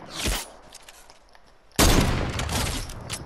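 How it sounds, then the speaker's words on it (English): Two loud, close sniper rifle shots ring out in a shooter video game, each with a sharp crack and a long roaring tail, the second one heavier. "Ooh, get sniped from so far away."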